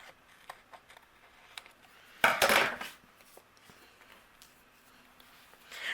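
Overhanging acetate on a shaker card is trimmed, with faint paper handling and small ticks leading to one brief, louder cutting rasp in the middle before quiet returns.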